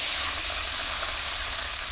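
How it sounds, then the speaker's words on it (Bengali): Hilsa fish belly pieces sizzling in a hot wok, a dense steady hiss that stays even and loud through the whole short stretch, close up and without talk. "কড়াই গরম হয়ে গেছে, আমি এই পেটাগুলো দিয়ে দেই,"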